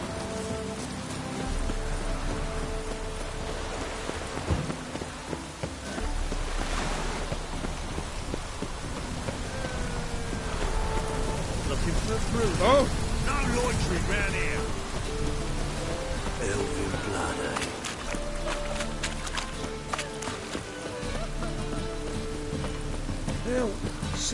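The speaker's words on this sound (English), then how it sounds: "It just rains and rains." Steady rain falls in The Witcher 3, a dense, constant patter over a broad wash of noise lasting the whole stretch, with game voices, clopping hooves and other scene sounds mixed in at times.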